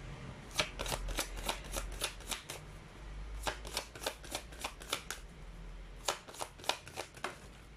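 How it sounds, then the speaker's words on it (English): A deck of Chinese fortune cards is riffled and shuffled by hand, with repeated crisp flutters in quick bursts, close and clear, with no talking. "So, let's pull up the Chinese fortune cards."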